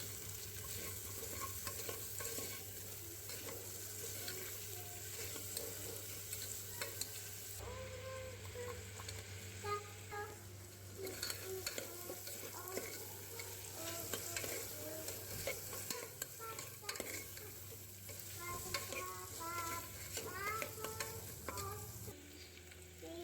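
Vegetables for a toddler's dal rice cooking in oil with a little salt in a pan, making a soft continuous sizzle with occasional stirring scrapes, close and fairly quiet, no talk.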